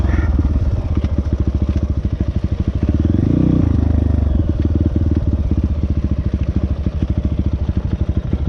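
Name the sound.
dirt bike engine revving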